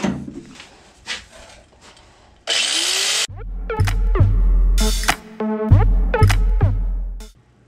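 Power tool cutting into the rusted quarter panel of a 1976 Camaro during repair, heard in loud bursts of grinding and cutting with short pauses between them, close up and with no talking.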